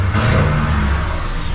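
A loud, low engine rumble with a gritty exhaust drone, steady throughout and close up, from a Ford 7.3 IDI diesel truck idling and revving slightly.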